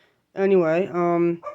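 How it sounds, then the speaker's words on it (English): A small dog barks and whines indoors, close by, in a single sustained, wavering yelp-like run of about a second, with a brief extra yip after it; a voice speaks a word over it. "that's my little dog. You can hear her barking because she just doesn't know who's talking up here."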